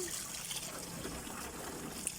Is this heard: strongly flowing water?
yes